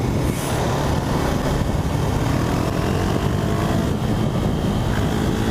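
A KTM 390 Duke motorcycle from 2017 riding on the road, its engine a steady, continuous drone mixed with broad road and wind rumble, loud and constant for the whole stretch without speech.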